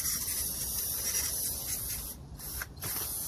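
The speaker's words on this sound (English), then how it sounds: "let's go shoot it with some brake cleaner" Brake cleaner sprays from an aerosol can onto the rear brakes of a 2017 Honda Accord, a close, steady hiss that continues with two brief breaks near the end.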